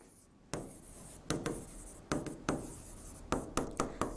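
Pen or marker writing out a formula on a board: a series of short, crisp scratching strokes in an irregular rhythm, close and fairly quiet, with no talking.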